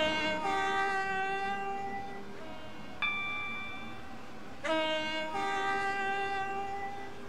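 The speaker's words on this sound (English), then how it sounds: "I'm blowing my horn a lot" Train horn in the Roblox game Stepford County Railway, a loud electronic two-tone blare with a bright harmonic chord, sounded in three long blasts separated by short gaps, with no talking over it.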